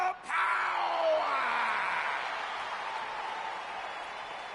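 Crowd noise fills a WWE 2K20 wrestling game arena at a New Day themed event, with sustained cheering and yelling after a sharp opening burst, steady and loud throughout the clip.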